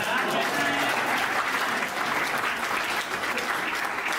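An audience at a comic song performance breaks into dense, steady applause that fills the whole stretch at an even, loud level.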